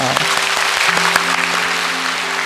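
A church congregation claps together in blessing for a family standing before them, a bright, even burst of applause, with a sustained tone from a keyboard or organ running underneath.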